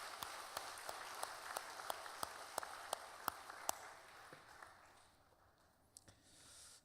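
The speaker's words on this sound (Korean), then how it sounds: "또 한번 격려의 박수를 부탁드립니다" A church congregation claps in encouragement during a worship service, a soft, distant patter of applause with a few sharper individual claps, thinning out after a few seconds.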